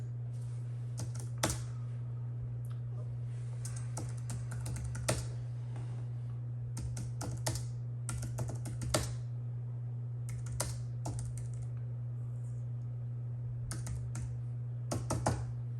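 Computer keyboard typing in bursts of rapid clicks with short pauses, over a steady low electrical hum.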